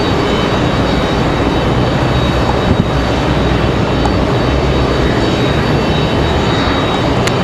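An aircraft taxis out toward the farthest taxiway at Raleigh-Durham International, its jet engines producing a loud, constant roar that continues steadily without pause or voices.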